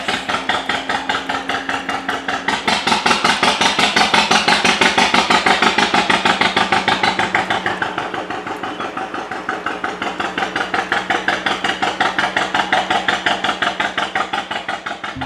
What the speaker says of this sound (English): The boat that I filmed at Watford Locks is behind me, making that wonderful sound.